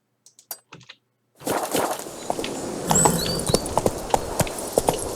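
Roach the horse clip-clops in The Witcher 3 video game, with hoof strikes falling at an irregular pace over a soft ambient background after a few brief, faint sounds and a short silence.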